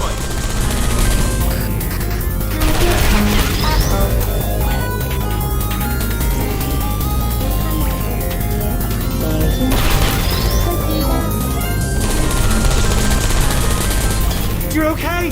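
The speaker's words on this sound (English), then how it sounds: "I heard gunfire." Loud, sustained bursts of gunfire and explosions in the video game Portal 2 crackle almost continuously, thick with rapid shots and crashing impacts, with a voice occasionally cutting through.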